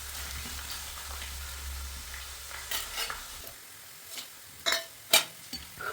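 Dried red chillies frying in coconut oil for a beef fry: a low steady sizzle, then quieter with a few sharp stirring clatters and pops near the end, no voices.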